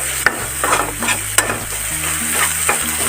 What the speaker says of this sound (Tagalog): Stir lang kayo ng stir.